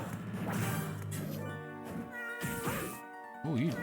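Game sound effects from Castlevania: Portrait of Ruin: a cat attack gives synthetic meowing cries and crashing hits, layered with the game's tonal music, loud and continuous.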